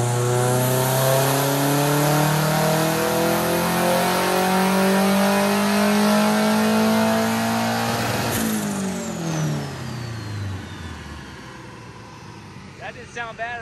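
A hot rod engine tuned with a Fuel Tech system revs hard on its first tuning pull, a loud rising roar that climbs steadily for several seconds before cutting off and winding down, with voices briefly heard afterward.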